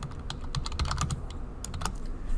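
Python code typed on a computer keyboard, a steady run of quick uneven key clicks, close and moderately loud, with no speech.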